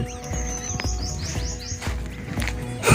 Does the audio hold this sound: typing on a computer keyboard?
no